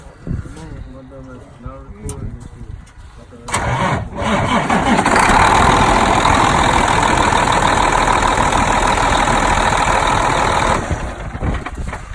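A truck engine cranks briefly and catches, then settles into a loud, steady idle that runs for several seconds before easing off, with someone talking faintly before the start.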